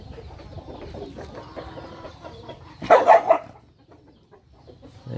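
Inbred Vietnamese fighting roosters are heard: low clucking and scattered noise, then a loud, brief crow-like burst near the middle that fades back to quieter background sounds.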